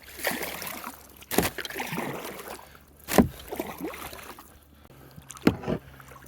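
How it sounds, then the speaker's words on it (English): Kayak paddled one-handed near an island shoreline in late fall, with soft dripping and gurgling water strokes and three sharp, close paddle knocks spaced a couple of seconds apart. "I'm gonna try to paddle"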